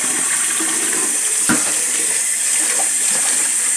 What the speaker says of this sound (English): And I'm going to rinse this rice.